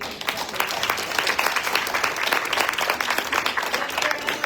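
An audience applauds at a water symposium, dense sustained clapping from a crowd of many hands, loud and even throughout with no voices rising above it.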